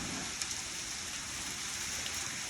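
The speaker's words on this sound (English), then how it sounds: "here comes the rain. Going like sideways." Heavy rain in a severe July thunderstorm with high winds, a dense, even hiss of downpour filling the air steadily with no breaks or voices.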